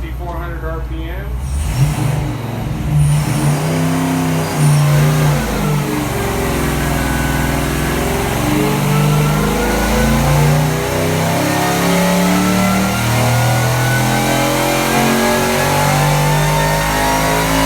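A supercharged LS3 V8 with internal upgrades revs on a dyno, a loud close roar that climbs and falls through repeated pulls, with a rough idle-like rumble at the very start.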